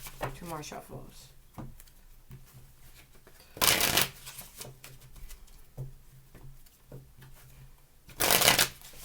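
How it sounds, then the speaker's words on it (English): Tarot cards being shuffled in two loud riffling bursts, with softer handling and a person talking between them. "Two more shuffles."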